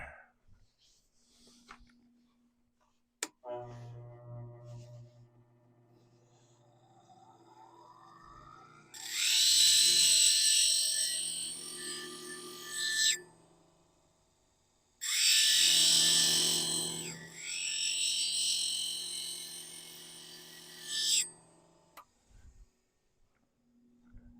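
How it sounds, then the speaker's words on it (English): A diamond parting tool sharpened on a bench grinder in a woodturning workshop. After some quiet handling noises, two loud bursts of harsh, high grinding come in close succession, each several seconds long, with the motor humming and winding down between them. "Put her up on the grinder."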